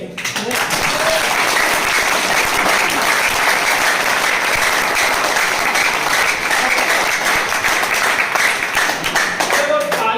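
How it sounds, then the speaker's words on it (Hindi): A crowd at a business motivational speech claps hard and steadily, and the loud, dense applause fills the whole stretch without letting up. "ताली जब भी बजाने का मौका मिले तो इतनी जोर से बजाना।"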